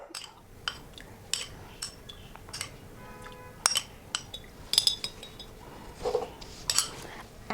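A metal spoon clinks repeatedly against a glass as sugar syrup is spooned in for homemade nimbu masala soda, giving bright, irregular taps and chimes close by, with a quiet background and no speech.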